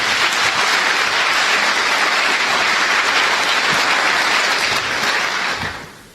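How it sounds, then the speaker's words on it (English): Conference audience applause after keynote stage talks, dense and sustained clapping filling the room at steady loudness for about five seconds before fading out at the end, no talking. "So one more round of applause for everyone that just went through the stage and talked on stage right now."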